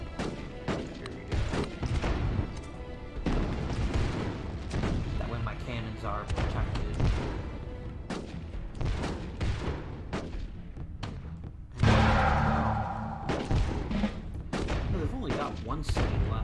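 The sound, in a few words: cannons firing in video game Rise of Nations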